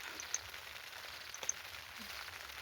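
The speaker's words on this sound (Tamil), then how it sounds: "மழை பெய்யுது. நல்ல மேலே வந்தாலும் ஃபுல் மழையாக பெய்யுது." Steady heavy rain pattering on a tent at a forest campsite, a dense, even hiss with a few sharper drops standing out close by, quiet and continuous throughout.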